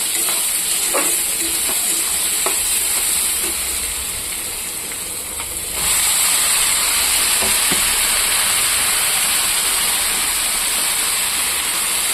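Bottle gourd frying in a pan with browned onions, bay leaf and green chilli, a loud steady hiss and sizzle with occasional clicks and scrapes, dipping briefly before surging back.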